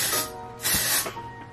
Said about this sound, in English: I don't know if that spray is a little too wet